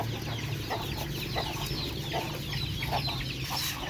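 A flock of chickens clucks continuously at close range, overlapping short calls over a steady outdoor background hum.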